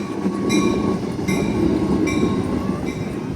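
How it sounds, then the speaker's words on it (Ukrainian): A passenger train rolls past at night along a track laid right at the edge of the shore, a steady close rumble of wheels with repeated rail clacks and a faint squeal, no voices. "Пасажирський поїзд пішов."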